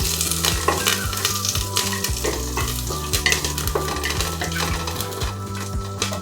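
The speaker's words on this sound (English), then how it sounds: "Now add curry leaves, give it a stir so that the aroma can be extracted in the oil." Curry leaves crackle and sizzle loudly in hot oil in a pan for venn pongal while a spoon stirs and scrapes against the metal in quick, repeated strokes, with no voices.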